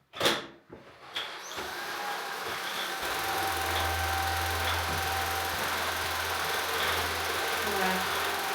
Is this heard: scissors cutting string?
no